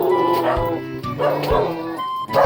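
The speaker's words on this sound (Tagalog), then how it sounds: "Ayan, may aso." A dog barks in a dark, pre-dawn street in Karuhatan, Valenzuela, with a few clear, loud yapping bursts in a short series over steady background noise.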